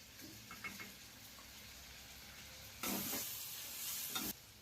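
Chicken curry frying in a pan after turmeric is added, with a soft sizzle and intermittent stirring scrapes that grow louder and denser near the end, close and alone.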